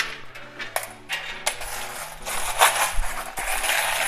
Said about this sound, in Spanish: Aquí están las monedas que había estado esperando y... ¡Uy! El de 500 cayó solo.